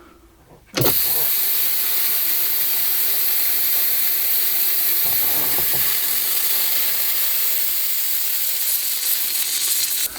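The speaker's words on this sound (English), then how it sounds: "I accidentally hit the power on the motor and it wouldn't stop." A motor-driven contraption automating a spray can, accidentally powered on and running nonstop, gives a loud, steady hissing spray with a mechanical whir that starts abruptly and continues without pause.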